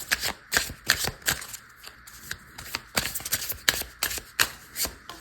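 Tarot cards being shuffled and drawn, a close run of crisp riffling flutters and soft slaps in irregular bursts, with no voices.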